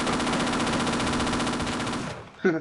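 Loud, rapid machine-gun fire from a turret in the video game Half-Life: Opposing Force, one continuous burst lasting about two seconds, then it cuts off and a brief voice follows.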